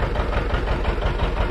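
A John Deere 70 diesel tractor runs near full throttle, belted to a No. 7 corn sheller, giving a loud, close, steady low rumbling chug with an even pulsing rhythm and no voices.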